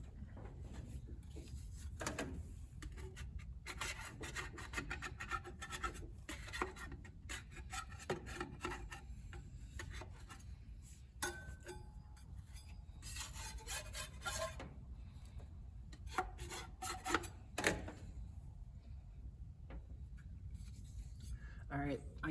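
Remnants of an old gasket are scraped off a Ford Bronco engine's intake: continuous rough, rasping strokes, close up, repeated steadily for about twenty seconds with brief breaks.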